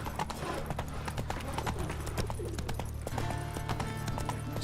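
Roach the horse's hooves clip-clopping at a steady trot in The Witcher 3 video game, a continuous rhythmic patter over game music and a low ambient bed, close and even throughout.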